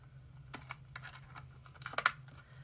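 Creased flaps of a small cardboard treat box being folded in by hand: a short run of light, dry clicks and scratchy taps, close and quiet, ending in a slightly sharper crinkle.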